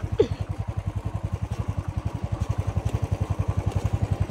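A farm vehicle's engine runs steadily while driving during garden preparation on a 55-acre plot in Tuticorin, Tamil Nadu, with a loud, even, rapid throbbing chug throughout.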